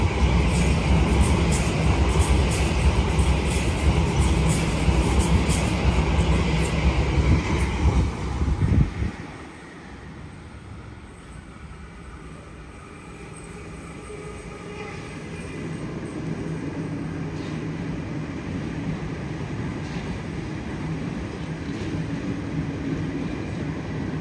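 A train rumbles loudly alongside a platform at Harris Park station, then its roar drops off abruptly, leaving a steady lower hum and faint rail noise.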